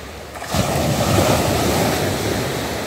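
Black Sea waves break on the shore at sunrise, a loud, continuous surf wash with heavy wind noise that surges in after a quieter opening half-second.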